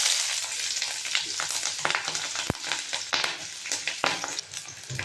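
Sliced onions and slit green chilies frying in hot oil with whole garam masala, a continuous close crackling sizzle with occasional stirring scrapes and a sharp utensil tap midway, no talking.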